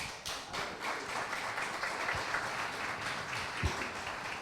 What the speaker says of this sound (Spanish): yo pido un aplauso para él.